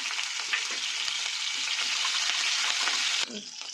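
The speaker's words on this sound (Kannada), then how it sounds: "ಇಲ್ಲಿ ಎಣ್ಣೆ ಕಾದಿದೆ, ಇದಕ್ಕೆ ಸಾಸಿವೆ ಮತ್ತು ಜೀರಿಗೆ ಹಾಕ್ತಾಯಿದ್ದೀನಿ" Mustard seeds, cumin and green chillies fry in hot oil, a dense continuous crackling sizzle up close, with faint stirring, dropping slightly just before the end.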